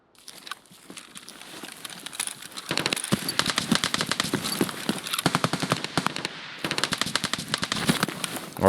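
Gunfire in the shooter game Escape from Tarkov near a sawmill: it starts with scattered shots, then dense rapid automatic bursts crackle continuously, fairly distant but loud and sustained.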